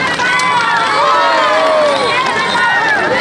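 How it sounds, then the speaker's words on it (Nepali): A large crowd at a political rally roars with loud, continuous cheering and shouting, close and dense throughout with no pauses. "कृपया जोरदार ताली"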